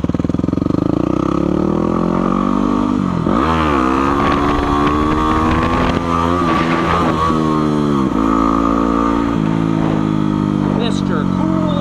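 A motorcycle engine running close by with a steady hum and a couple of rising revs as the bike pulls away and settles, with a voice talking over it.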